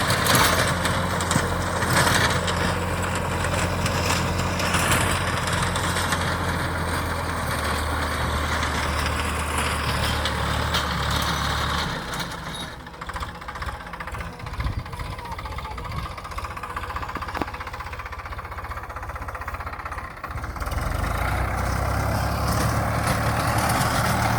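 A tractor engine runs loud and steady throughout, a heavy continuous rumble with a low throbbing drone that eases slightly in the middle stretch before swelling back near the end.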